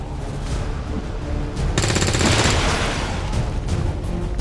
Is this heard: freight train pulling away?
no